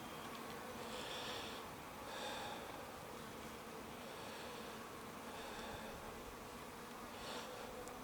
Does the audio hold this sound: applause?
no